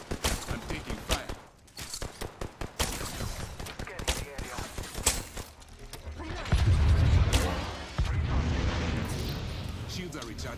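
Rapid gunfire crackles through a video game firefight in bursts of sharp reports, swelling into a heavier blast midway, with a voice talking intermittently over the shooting.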